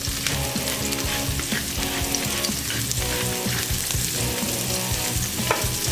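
Onions, garlic and mushrooms sizzling steadily in a pan, a continuous close frying hiss with occasional stirring, no voices.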